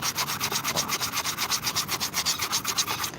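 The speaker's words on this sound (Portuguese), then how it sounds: "venho com uma outra lixa mais grossa aqui, lixa esponja também" A coarse sponge sandpaper rubs back and forth on a plastic electrical-conduit flute in quick, steady strokes, about five or six per second. The rasping scrape is close and loud, with no talking.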